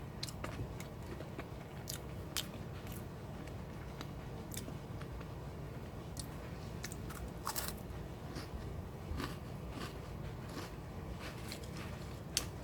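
Crunchy Combo cheese crackers being bitten and chewed up close, a run of sharp crisp crunches over a continuous chewing texture, with no talking.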